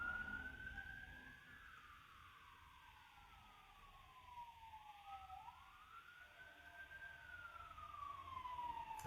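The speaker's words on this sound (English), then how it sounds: "Bad time of year for the ambulances and the fire trucks to be running up and down the road." Sirens from ambulances and fire trucks passing along a road, a continuous rising-and-falling wail sweeping up and down over a low traffic rumble, moderately distant and growing slightly louder toward the end.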